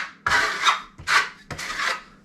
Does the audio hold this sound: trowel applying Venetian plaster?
yes